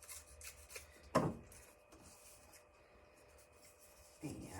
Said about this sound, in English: All I'm going to do is trim it a bit so that it's a little bit smaller